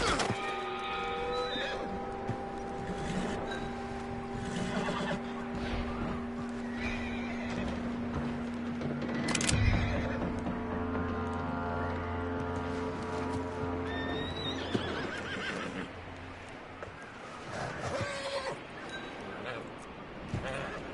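Horse whinnying and neighing with clip-clop hooves in Red Dead Redemption 2, up close over a sustained musical backdrop, with a voice talking now and then.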